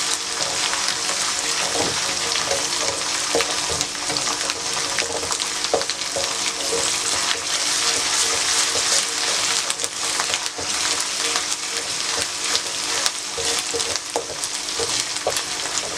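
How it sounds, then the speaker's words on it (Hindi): Garlic paste frying with onions in a pan while making chili chana masala, a steady loud sizzle throughout with occasional stirring scrapes and clinks, no talking. "लहसुन फ्राई हो गया।"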